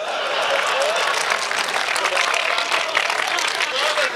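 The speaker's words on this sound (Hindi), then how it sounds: "और तालियां तो इस बात पर बजाओगे" Audience applause at a Hindi poetry mushaira, dense steady clapping filling the hall for several seconds with a murmur of crowd voices mixed in.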